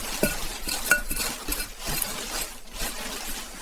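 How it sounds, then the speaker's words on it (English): A whisk stirs dry chocolate chip cookie mix of flour, baking soda and salt in a bowl, giving soft irregular scratchy strokes with faint clinks against the bowl, close and fairly quiet. "Now whisk this dry mix well."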